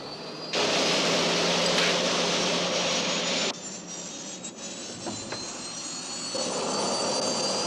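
Aircraft engine roaring at liftoff as the craft is taken up for flight, a loud sustained roar that surges in early then eases to a steadier drone before swelling again.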